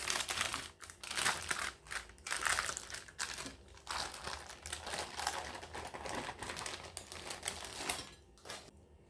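Baking paper crinkles and tears as it is peeled away from a cooled Madeira cake, a close, continuous papery rustle with irregular crackling bursts throughout.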